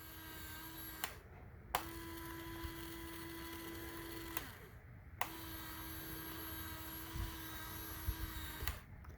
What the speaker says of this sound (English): So this winch just kind of runs forward and back in.